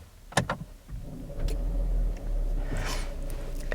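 Hyundai i30 Fastback with mild-hybrid system, engine started by an electric motor: a few faint clicks, then a smooth, quiet rise into a low, steady idle without clatter.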